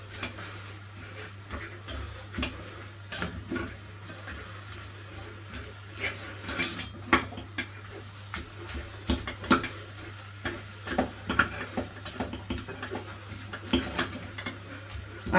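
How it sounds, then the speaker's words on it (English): Brown onion cooking in a pot for a budget chilli, with repeated utensil clinks and scrapes against the pot over a soft sizzle and a low steady hum, irregular and close, no talking. "So we'll give this a stir, keep this cooking."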